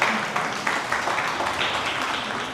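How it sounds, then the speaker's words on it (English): An audience claps for a guest speaker at a talk by film and television actresses, a steady broadband patter of many hands that holds for a few seconds with no voice over it. "Can you clap for me?"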